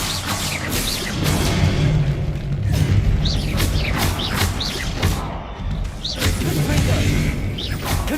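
Expelliarmus spell cast in Hogwarts Legacy, a dense, loud burst of magical game effects with booming thuds and mechanical whooshes layered over a continuous rumbling backdrop, repeating in waves for several seconds.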